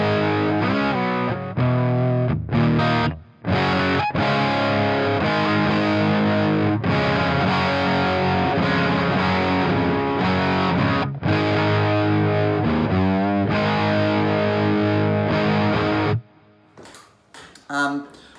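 Electric guitar played through a Marshall Silver Jubilee 2558 combo amp set to low output, a loud, continuous distorted riff with brief gaps that ends in a few quieter scattered notes.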